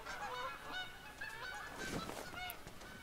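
Canada geese honking in the hunting game theHunter: Call of the Wild, a quick series of nasal honks overlapping at moderate distance, fairly quiet and without any voices.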